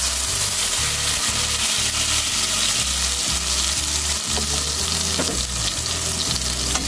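A blended spice paste fries in hot oil for a Bengali bele fish paturi curry, giving a loud, steady, close sizzle over a low rhythmic hum.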